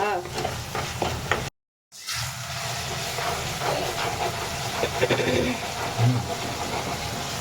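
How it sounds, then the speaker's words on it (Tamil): Onion and tomato masala sautéing in a pan, giving a steady loud sizzle and steamy hiss with occasional stirring scrapes, close up, broken by a short silent gap near the start. "மசாலா பாத்தீங்கன்னா நல்லா வந்து வதங்கி வந்துருச்சு வெங்காயம் தக்காளி போய் வதங்கிருச்சு"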